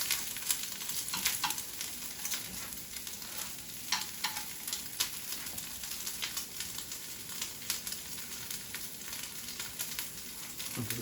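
Crab cakes frying in a small amount of oil, an even, steady crackling sizzle that carries on throughout with faint irregular pops.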